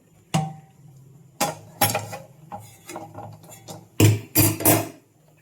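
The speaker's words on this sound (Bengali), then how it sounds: "মশলাটা আমি ঢেলে দেবো খিচুড়ির মধ্যে।" Spiced tempering poured into vegetable khichdi, heard as a few sharp metallic clanks and clinks of a pan and utensils at irregular intervals, loud and close, with no one talking.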